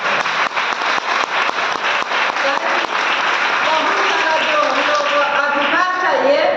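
A crowd gives rhythmic, loud applause for Bhim Ambedkar on 14 April, starting as steady claps in unison that blur into general clapping, with voices rising and cheering toward the end.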